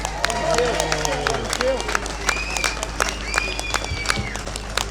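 An audience claps and cheers after a speech at an event about protecting children, with a steady spread of applause and crowd noise.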